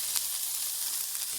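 Chopped tomatoes sizzle with sautéed onions in a pan for a Kerala-style chana masala, a steady close hiss with a few brief brighter spurts, no voices.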